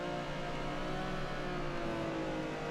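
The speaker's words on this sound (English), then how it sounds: "go up to 60, listen to the engine" A drift car's engine holds a steady, loud drone with a sustained rev and no breaks, heard close up without talk.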